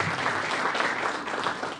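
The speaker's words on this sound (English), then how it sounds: "Can we give him a round of applause?" Steady audience applause at a project management conference, a dense continuous clapping crowd heard alone for a couple of seconds.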